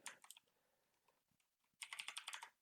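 Keys clatter on a computer keyboard in two bursts, a quick flurry at the start and a denser run of rapid, evenly spaced keystrokes near the end, close and fairly quiet with a soft pause between.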